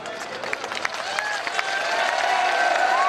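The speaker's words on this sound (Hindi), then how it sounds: "आप खुशी से ताली बजा रहे हो, अच्छी बात है" A crowd applauds at an outdoor political rally in Bundi, Rajasthan, with dense clapping that swells and grows louder toward the end, sharp individual claps standing out, and a voice carrying over it.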